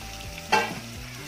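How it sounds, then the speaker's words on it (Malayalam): Chopped onion dropped into a hot pan with fenugreek seeds, giving a sudden brief sizzle and stir that flares up and quickly settles back to a low frying hiss. "ഇനി ഇതിലേക്ക് നമുക്ക് അരിഞ്ഞ് വെച്ചിട്ടുള്ള സവാള കൂടി ഒന്ന് ചേർത്ത് കൊടുക്കാം."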